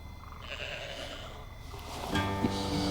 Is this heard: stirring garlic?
no